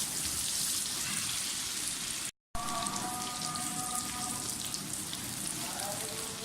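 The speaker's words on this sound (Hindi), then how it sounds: "प्याज को अच्छी तरह से फ्राई कर दें।" Onions fry in a pan for rice, a constant close sizzle and crackle that stays steady throughout with no talking.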